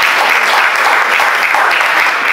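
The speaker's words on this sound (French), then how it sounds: "On peut applaudir pour lui très fort," Audience at a national slam poetry event clapping loudly and steadily, a dense continuous wash of hand claps throughout.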